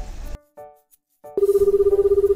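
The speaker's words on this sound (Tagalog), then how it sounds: "Nag-ring ang cellphone." A cellphone rings at a bus stop: a short tonal chime cuts in and out, then a steady pulsing electronic ring repeats rapidly and loudly to the end.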